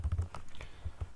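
A computer keyboard clatters under quick, light taps, a short burst of soft close keystrokes while typing Python plotting code, with no talk.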